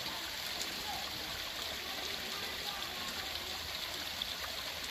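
Cold, clear mountain stream water flows steadily near an indigenous Aeta community, a continuous close rushing and trickling wash with no breaks, and no talk over it.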